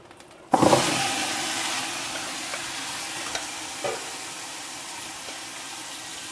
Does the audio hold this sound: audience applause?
no